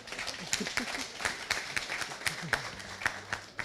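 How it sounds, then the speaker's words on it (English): A small group clapping, scattered claps in a loose rhythm, fairly quiet and brief. "I really want you to give them another round of applause."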